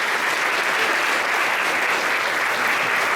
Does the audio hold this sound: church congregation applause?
yes